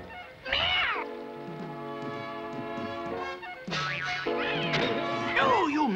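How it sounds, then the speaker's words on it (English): Cartoon cat meowing and yowling loudly in drawn-out, wavering cries, two long bursts with a brief pause between, close and prominent. "No, oh, you miserable cat, Azrael."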